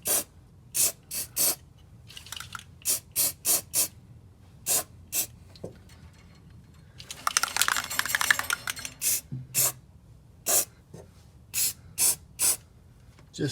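Short hissing bursts from a spray can, a rapid series of separate puffs with one longer spray in the middle, as paint is applied to freshly drilled holes in aluminum inside a Sprinter van; close and fairly quiet.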